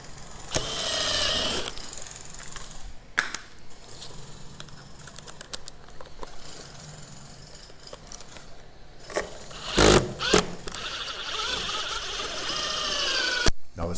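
Screws are driven into a Marvin Integrity sliding French door mortise lock box, with short bursts of whirring and scraping that are interrupted by clicks and pauses, fairly close and moderately loud.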